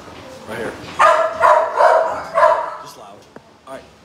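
Dogs in an animal shelter room bark in three or four loud, close bursts over a few seconds, a short yip trailing off near the end, with some voice underneath.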